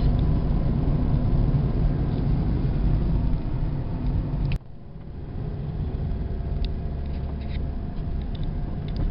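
Steady engine rumble from inside a car held at 2000 to 2500 rpm in second gear during a driving test route, loud and continuous with a brief dip midway.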